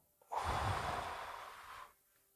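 A single deep breath during meditation, a close, soft airy inhale-exhale lasting about a second and a half, alone in near silence.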